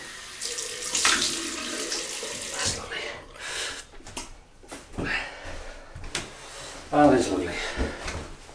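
Water runs from a bathroom tap for a cold rinse after shaving, splashing in bursts into a sink with intermittent clatter, heard close.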